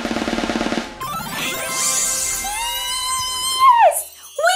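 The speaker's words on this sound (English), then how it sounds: "This is the sound of a monkey!" A monkey calling, a run of rapid chattering hoots that rises into long, loud, wavering shrieks and whoops, close and clear with no talking.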